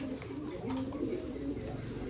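Pigeons cooing steadily and close by in a loft, soft low throaty calls repeating across the whole stretch over a constant background hum.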